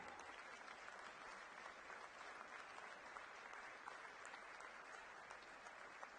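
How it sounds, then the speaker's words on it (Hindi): Soft, distant clapping from an audience at a Delhi political event, a continuous even patter of many hands, faint and steady throughout. "ताली थोड़ी धीरे नहीं है?"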